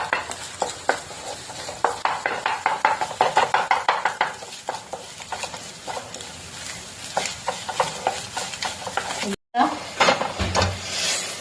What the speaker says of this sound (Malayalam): കുറച്ച് കുരുമുളക് പൊടി മതി. ഇട്ടിട്ട് നന്നായിട്ട് ഇളക്കി എടുക്കാം